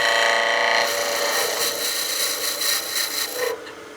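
A skew chisel takes a peel cut on spinning wood on a lathe, forming a tenon: a steady close rasping, shaving hiss that runs for about three and a half seconds, then stops abruptly, leaving quiet hum.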